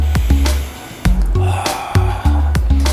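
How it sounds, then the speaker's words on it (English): Close, loud nasal sniffs and snorts as someone smells a piece of garlicky, tangy Korean fried chicken: several short, sharp inhalations in an irregular rhythm with brief pauses, with no speech. "Before I eat it, I wanna give it a sniff."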